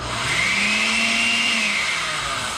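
A blender motor whirs steadily and loudly, its pitch rising slightly then holding, with a grinding whine on top and no voices, the blades spinning in an air pocket without blending.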